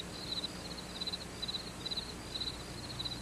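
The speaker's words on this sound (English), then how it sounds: "Just over cricket sounds" Crickets chirp steadily behind a film title screen for the movie The Infiltrator, giving six evenly spaced, high-pitched trilled bursts against a faint, quiet hiss with no voices.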